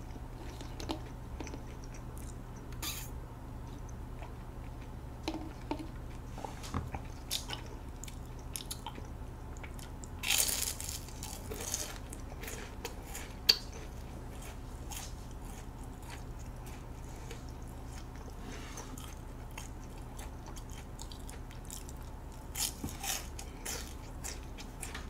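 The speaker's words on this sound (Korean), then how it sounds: "후식 먹어요" Someone eating dessert: faint, quiet chewing and soft squishy bites with occasional light clinks, spread over a hushed room with no talking.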